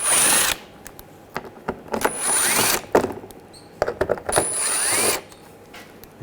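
A power drill with an 8mm socket whines in short bursts while backing screws out of a 2007-2013 BMW 328i panel, close and loud, with clicks and handling noises between runs.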